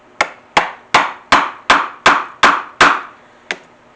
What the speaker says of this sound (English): I can take my awl and use it as my 3rd punch on the other point